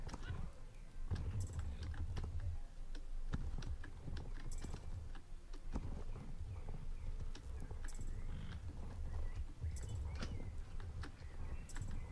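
Horse hooves clip-clopping in the video game Star Stable Online, faint repeated galloping beats under a player's talk and keyboard clicks.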